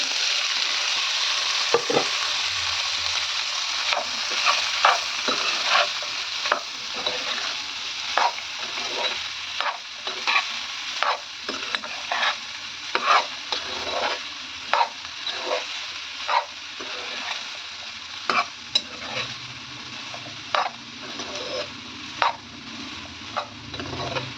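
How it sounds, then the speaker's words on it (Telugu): Boiled cauliflower pieces stir-fry in a pan with chili powder and salt, under a constant sizzle punctuated by regular, sharp spatula scrapes and knocks as the pieces are tossed. "ఇందాక ఉడికించిన కాలీఫ్లవర్ ముక్కలు ఉన్నాయి కదా అవన్నీ వేసి మంచిగా దోరగా వేయించుకుందాం"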